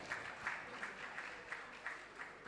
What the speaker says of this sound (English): Please, let's clap for him some more.